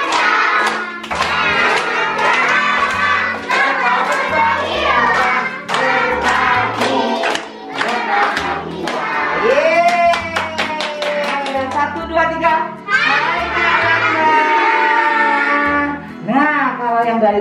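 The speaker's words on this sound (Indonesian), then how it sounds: "Bisa sekali lagi sambil tepuk tangan." Children clap their hands in a steady beat while singing loudly together at a Christmas event, with voices and rhythmic claps close and continuous.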